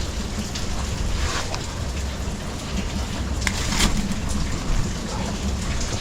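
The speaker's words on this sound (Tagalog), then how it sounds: "Habang pabugso-bugso ang ulan," Rain pours steadily in a dense, loud hiss that swells slightly now and then, with a few sharper drips standing out and no voices.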